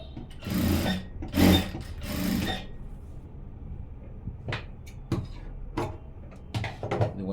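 A sewing machine stitches blouse pieces together in a straight seam, with three loud, close whirring runs of rapid stitching in quick succession, followed by quieter handling clicks and knocks.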